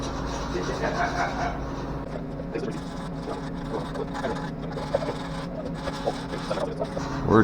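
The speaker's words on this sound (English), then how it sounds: "Week 16 of Tim sanding" Steady rasping of sanding on a car's taillight panel, close and continuous, with scratchy strokes rising and falling in intensity.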